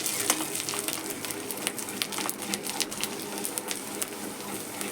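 A sabudana (sago) papad fries in hot oil, giving a steady dense crackle and sizzle like light rain, with sharper pops scattered through, close and continuous without talk.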